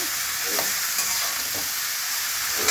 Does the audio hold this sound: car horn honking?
no